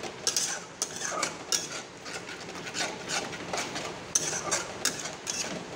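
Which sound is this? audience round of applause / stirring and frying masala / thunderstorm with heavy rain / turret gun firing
stirring and frying masala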